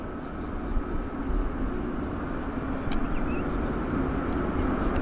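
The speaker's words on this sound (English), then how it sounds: "Quite a short takeoff roll on that little commuter aircraft." A Central Mountain Dornier commuter aircraft rolls for takeoff, its engines a broad, steady roar that swells slightly over five seconds, heard from a distance across the airport with no speech.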